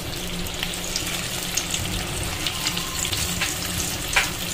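Egg and potato fingers deep frying in hot oil, a steady dense crackling sizzle throughout with a few louder pops, close and without talk.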